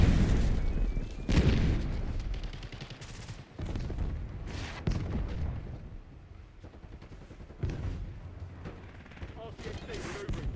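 A grenade goes off in a Call of Duty Black Ops 6 multiplayer match, one of several sharp booms among bursts of gunfire, with in-game voice callouts between the blasts.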